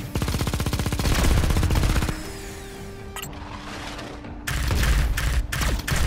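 Rapid automatic gunfire in the Xenoraid space-shooter video game on PS4, a fast steady stream of close shots for two seconds, a pause with mechanical hum, then another burst.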